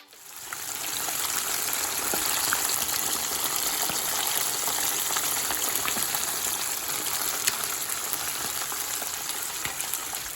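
Jamaican escovitch fish fries in a pan of hot oil, a steady, dense hiss and crackle that starts abruptly and holds at an even level throughout, close and without any talking.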